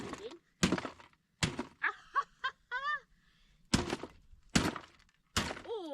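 A hammer strikes an old Pro Tech 3-disc CD player in a series of sharp, heavy smashing blows with cracking plastic. A person speaks, moans and laughs in short bursts between the hits.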